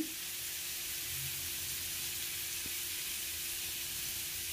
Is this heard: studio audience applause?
no